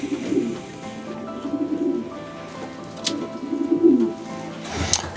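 Racing pigeon cooing as it is caught by hand, several close soft coos in uneven bursts with a sharp flutter or scuffle near the end.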